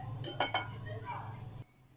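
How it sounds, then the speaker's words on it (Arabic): A utensil scrapes and clinks against a bowl while stirring flourless cake batter, with a couple of sharp taps near the start, close up over a low hum. "كنحرك هذا الخليط ديال الكيك حتى كينسجموا هاد المقادير كلهم"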